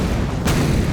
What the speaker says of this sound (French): Oh, ça va exploser.